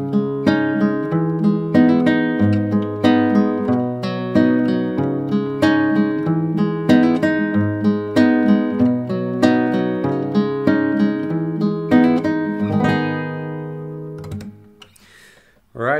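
Fingerstyle acoustic guitar playing a riff with hammer-on melodic decorations, a rhythmic plucked pattern that rings on for many bars before fading out.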